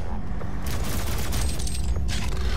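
Heavy weapons fire in the DOOM game, a dense rumbling barrage of booming blasts and mechanical clatter that runs continuously, loud and close, with a short break before a final volley.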